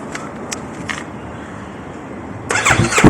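A few faint clicks, then a Yamaha R3 motorcycle engine cranks and fires up, rumbling loudly and close for the last second.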